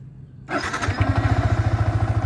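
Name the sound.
Yamaha YZF-R15 V3 motorcycle engine starting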